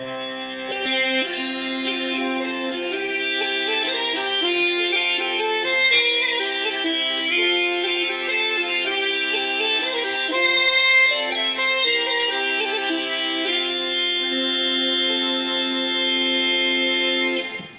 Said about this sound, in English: if I play that tune with the melody on the chanter, with the accompaniment of the drones